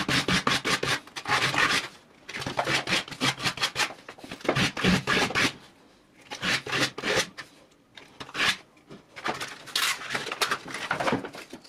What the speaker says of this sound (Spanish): Ahora le pasaré una lija de 240 para hacer realmente más fino.